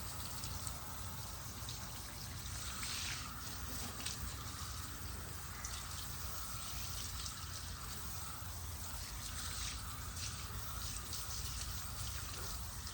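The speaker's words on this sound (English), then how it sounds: "Let me go ahead and rinse this off." Water sprays over a tire and rim during a wash, a continuous hissing, splashing rush that stays fairly even and moderately faint throughout.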